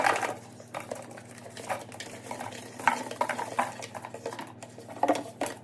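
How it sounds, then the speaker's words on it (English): Plastic dishwashing tabs rustle and clatter as they are placed into a clear plastic storage container with a lid, a string of close, irregular taps and scrapes over a faint hum. "Next I have these dishwashing tabs that I'm going to place into this"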